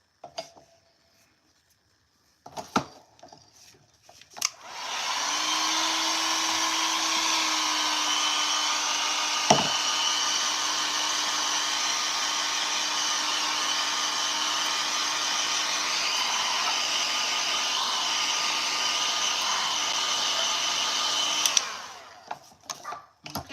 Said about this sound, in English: let's give these a light dry.